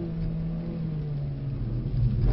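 A Mercedes-Benz A45 S engine revs steadily with a low droning tone during track driving at Brooklands, building slightly louder toward the end, close and continuous with no voices.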